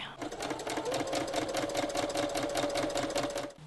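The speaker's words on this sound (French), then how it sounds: "J'arrive à un tournant où je dois coudre droit là, ici." A sewing machine stitches old bedsheets into palazzo trousers with a fast, even mechanical whir and clatter that runs steadily and close before stopping abruptly.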